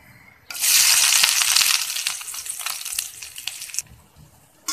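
Chopped onion tipped into hot mustard oil for an okra stir-fry, setting off a sudden loud sizzle that bursts in, roars steadily, then thins to a softer crackle.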